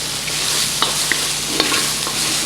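Cabbage sizzles as it is stirred and fried in a pan, a steady close frying hiss with a few light clicks and taps of the utensil.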